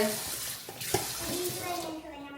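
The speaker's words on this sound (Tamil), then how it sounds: "லீட்ஸ் கழுவுறேன் வடிவா கழுவணும்" Leeks being washed under a running kitchen tap, with a steady broadband water rush and a few splashy handling bumps.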